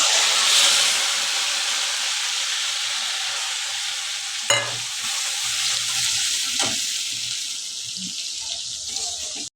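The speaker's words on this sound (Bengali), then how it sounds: "তেলটা গরম হয়ে গেছে এটার মধ্যে এবার ওই মশলাটা দিয়ে দেবো" A spice mix with turmeric and salt drops into hot oil for a vegetarian cauliflower and potato curry, bursting into a loud, close sizzle that fades slowly, with a couple of sharp clinks from stirring.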